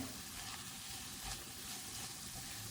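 Drumstick leaves stir-frying in a pan, giving a soft, steady sizzle and hiss with faint stirring scrapes throughout, quiet and continuous with no voices.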